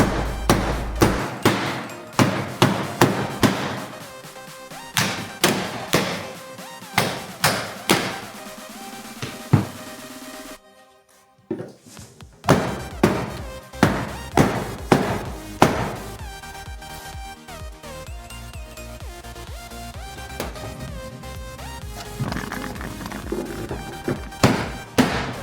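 Heavy hammer blows pound a damaged Nissan NV400 van door, landing in quick bursts of loud metallic strikes with a short quiet gap midway, then resuming in steady repeated hits.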